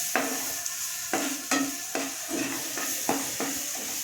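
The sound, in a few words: frying goat brain in oil with spices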